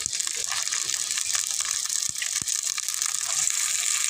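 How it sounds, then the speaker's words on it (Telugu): Raw chicken rinsed in water at home for gongura chicken, a steady gushing, splashing wash with a few soft knocks of pieces shifting, close and continuous with no talking. "చికెన్ బాగా నాలుగు సార్లు కడగాలండి"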